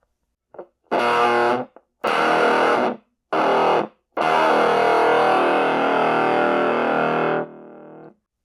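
Heavily fuzzed, distorted guitar plays a few short bursts, then one long sustained chord that rings out and fades to a quieter tail.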